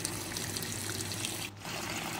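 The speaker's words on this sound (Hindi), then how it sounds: "इसको डालने के बाद हम क्या करेंगे कि इसके अंदर हम डाल देंगे पानी।" Water pours steadily into a pot holding amla, reetha, shikakai and fenugreek seeds for homemade hair oil, a continuous close trickle with a brief dip near the end.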